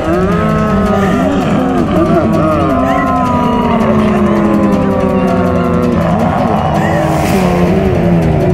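A car revs hard and pulls away with skidding tires, its engine whine sweeping up and down loudly, in a tense horror show scene with people shouting over it.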